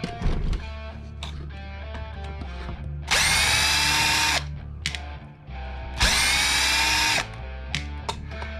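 A power drill loosening screws on a Hobao GTB RC car, with two steady whirring runs of about a second each over a background of small handling clicks and a low hum, close up.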